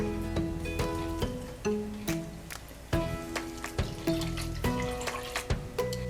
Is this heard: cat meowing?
no